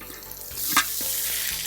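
Garlic and ginger frying in oil for a Wayanad-style bone curry, with a close, steady sizzle cut by a couple of quick stirring scrapes in a short burst, with no voices.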